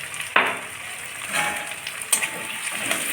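Sliced onion with salt and turmeric frying in a pan, a close, steady sizzle broken by a few sharp clatters and scrapes of stirring.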